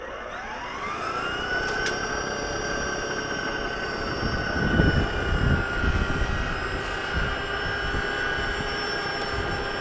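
An Ego 28-inch two-stage battery snow blower, running at low speed with the auger on low, clears a driveway with a steady tonal electric whine and hum that surges briefly midway.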